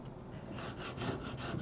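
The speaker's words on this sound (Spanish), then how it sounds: "Procedemos a lijar." Rhythmic scratchy rasping of sandpaper on a wooden deck, steady back-and-forth strokes close by after a brief quiet start.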